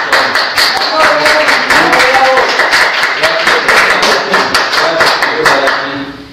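A studio audience on a Spanish-language arts and media program claps, with close, crisp hand claps in a fairly regular rhythm that continue steadily, and faint voices or tones underneath.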